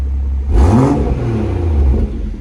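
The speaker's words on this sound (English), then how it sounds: "we're just going to show you what the engine sounds, or the exhaust sounds like in normal comfort mode" A BMW 340i with an M Performance exhaust in comfort mode rumbles at idle, then gives a short rev with a deep exhaust burble before easing back to a low, smooth drone.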